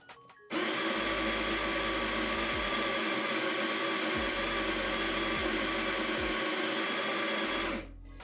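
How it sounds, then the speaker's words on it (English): A Baratza Sette electric coffee grinder grinding a 20-gram dose of coffee beans, starting with a sudden loud motor whine that holds steady with slight pitch dips for about seven seconds before stopping. "When you hit play on the 20 grams, it is gonna think, and then we'll grind out."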